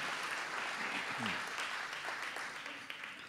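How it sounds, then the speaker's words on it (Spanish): Audience applause at a photo-reading contest award ceremony for prize winners: dense, continuous clapping filling the space at an even level, with a brief murmur of voices partway through. "el aplauso para ellos"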